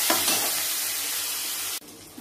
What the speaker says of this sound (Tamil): பூண்டு வதக்கவும்.